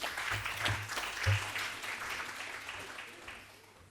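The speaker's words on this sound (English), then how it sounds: "Rounds of applause." An audience at a university event on Islamic psychology breaks into applause as a speaker is welcomed to the stage: dense, close clapping with a few sharp bursts, fading slightly toward the end.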